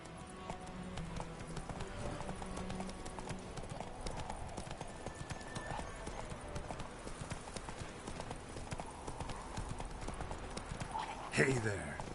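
Hoofbeats of Roach, the horse in The Witcher 3 game, galloping in a steady rapid clip-clop throughout, with talk and game ambience layered over the hooves.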